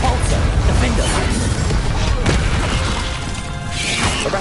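Confringo blast spells exploding in the Hogwarts Legacy video game, a dense, loud wash of rumbling booms and crashing impacts that runs without a break.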